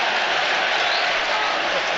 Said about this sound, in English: That was a loud cheer for a yellow card